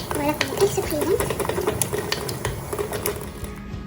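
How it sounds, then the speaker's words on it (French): Steady stirring of a thickening homemade solid shampoo paste in a pot, a soft continuous scraping and tapping of the utensil against the container, close and moderately loud, with someone speaking over it. "Alors, je vais continuer à remuer"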